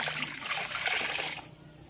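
Water pours and splashes for laundry by hand, a loud, steady gushing stream that cuts off abruptly near the end.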